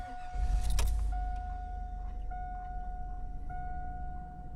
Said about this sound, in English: So, let's go ahead and get the car started.